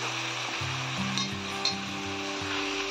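Potatoes frying in a pan with spices, turmeric and salt, a soft, steady sizzle with a constant low hum beneath and a couple of faint clinks from stirring, close and quiet.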